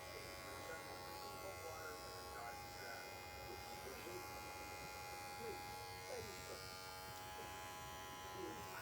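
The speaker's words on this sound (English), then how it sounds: "So we'll go ahead and do our clipper." Electric clippers buzz steadily and close by, held near young American Cocker Spaniel puppies during daily handling, with a soft voice talking lightly underneath the continuous drone.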